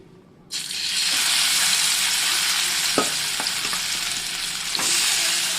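Potatoes drop into hot oil on a low flame and erupt into a loud, steady sizzle that holds without pause, with a few faint utensil taps underneath.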